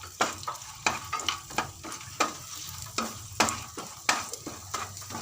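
Whole spices (cinnamon, cloves, star anise, bay leaf, cardamom and mace) sautéed in a pan for mutton biryani, with a soft sizzle under repeated sharp scraping stirs at a steady, uneven rhythm.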